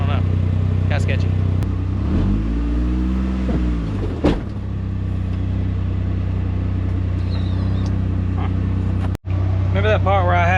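A Polaris Ranger 1500 XD labors on an easy trail, its engine a loud, steady drone that swells and dips as it struggles, with some wind or rumble and brief sounds of passing vehicles.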